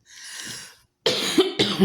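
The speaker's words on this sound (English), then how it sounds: "And that cough comes from this tobacco" Two sharp, close smoker's coughs from tobacco follow a soft breathy exhale, the second burst quickly echoed by another short hack.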